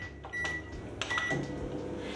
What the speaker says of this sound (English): Place the white chocolate in the microwave.